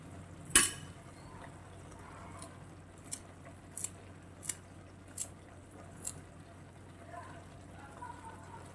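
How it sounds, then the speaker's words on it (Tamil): Fresh coriander leaves are cut by knife for a cauliflower, potato and peas sabji: a handful of faint, sharp taps spaced about a second apart in a quiet kitchen. "நம்ம மல்லி இலையை மட்டும் கொஞ்சம் கட் பண்ணி உள்ள போட்டுடுறேன்"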